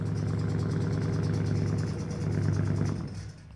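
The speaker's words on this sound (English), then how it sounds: "Hear that rattle?" A car idles with a steady low rumble and a buzzy mechanical rattle running through it, loud and close, dropping off near the end as the engine note changes.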